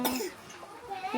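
A child coughs a few times in quick succession, close to the microphone and fairly loud, with children's voices nearby at a busy outing.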